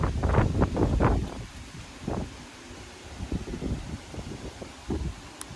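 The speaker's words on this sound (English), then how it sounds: "Those winds are blowing." Strong wind buffets the microphone in rough, gusting bursts, rumbling low and rising and falling in uneven waves.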